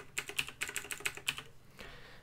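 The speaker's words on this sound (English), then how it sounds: "press the letter L on your keyboard" Quick runs of computer keyboard key presses, about ten crisp, close clicks in a rapid uneven rhythm while working in Finale v25 notation software, with no talk.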